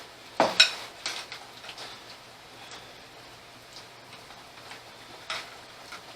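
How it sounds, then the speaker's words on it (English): Tomatoes for quinoa stuffed peppers being stirred in a pan, with a couple of sharp utensil knocks near the start, then soft scraping and faint sizzling of juicy tomatoes, quiet and close, no one speaking. "Start stirring this up a little."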